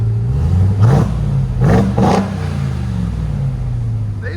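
A 2022 Ram TRX on its stock exhaust revs three times in quick succession, each blip rising over a steady, loud idle rumble close by.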